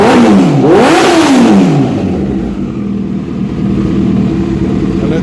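Kawasaki ZX-14R motorcycle engine revs hard, pitch sweeping up and down twice in quick blips before settling into a steady, loud idle-like drone; no voices.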